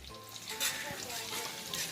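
A tempering sizzles in a pan for village-style gavthi chicken, a soft, steady crackling hiss with a brief louder flare early on and faint background sounds.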